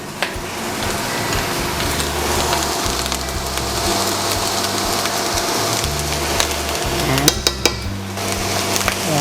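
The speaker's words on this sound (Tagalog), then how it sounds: "haluin lang natin ang bonggang-bongga ang ating fried rice" Fried rice being stirred and tossed in a pan with pepper, liquid seasoning, dark soy sauce and oyster sauce, giving a steady sizzle with scraping and clattering of the utensil against the pan, plus a brief louder rattle near the end.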